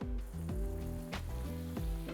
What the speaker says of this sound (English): Because we're shallow frying, you may want to turn it on the sides as well